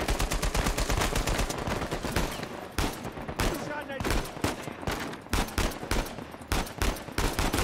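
Rapid gunfire in the video game Uncharted 4, dense bursts of automatic shots and single cracks that stutter on and off throughout, with brief pauses between volleys.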